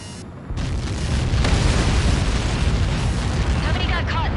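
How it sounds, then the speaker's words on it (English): Large explosion in the Ace Combat 7 flight game, a sudden loud blast that swells into a sustained roaring rumble lasting several seconds, heavy and booming in the low end. "How many got caught in that explosion?"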